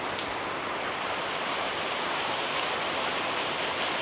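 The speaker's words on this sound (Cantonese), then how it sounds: "聽住雨聲真係好正啊！" Steady rain pours down at night beside a hotel swimming pool in Da Nang, Vietnam, a dense, even hiss with a couple of faint drips standing out near the end.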